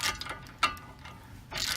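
A ratchet wrench tightens front brake caliper bolts on a 2012-2016 Ford Focus, producing short close mechanical clicks and metallic ratcheting bursts.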